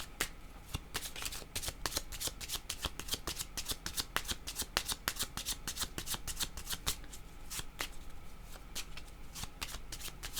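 Tarot cards are shuffled by hand in a steady run of crisp riffling and slapping sounds that continues close and clear without a break, with no one talking.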